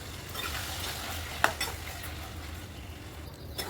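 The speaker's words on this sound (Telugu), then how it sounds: "అదే ఆయిల్లోన బాగా రెడ్ కలర్లో బాగా ఎరుపు రంగులో పండినవి టమాటా వేసుకుందాం" Ripe red tomatoes fry in hot oil for a traditional Chettinad tomato chutney, a close, steady sizzle broken by one sharp clink of a utensil against the pan and light stirring.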